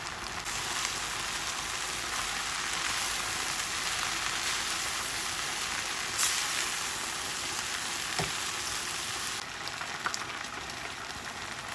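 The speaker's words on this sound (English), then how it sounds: "As all the vegetables are being stir-fried together" Vegetables stir-frying for chicken noodles with nutmeg added, a dense continuous sizzle and crackle of hot oil, close and steady throughout with a few faint clicks of utensils.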